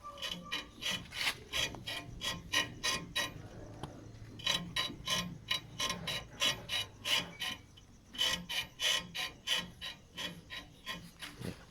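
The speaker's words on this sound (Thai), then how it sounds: "ก็คือเสียงแหนบดังนะฮะ เสียงแหนบดังซึ่งเป็นอาการ" Rhythmic squeaking and creaking from the leaf springs of a 2020 Toyota Revo Prerunner pickup as the bed is rocked, repeated in quick bursts with short pauses, close and fairly loud.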